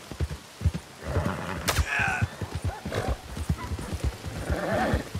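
Horse galloping in the Red Dead Redemption video game, with rapid rhythmic hoofbeats close and loud throughout and a brief whinny partway through.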